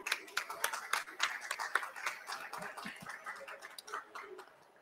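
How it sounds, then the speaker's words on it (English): A conference audience applauds the panel speakers at an Arctic weather event, a dense patter of hand claps that is steady for most of the stretch and then thins and fades near the end. "I'd like to give our speakers another round of applause quickly."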